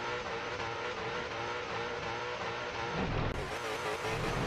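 Drift cars in the Assetto Corsa video game, engines droning and revving continuously at high pitch, with a louder surge of engine and tire noise near the end.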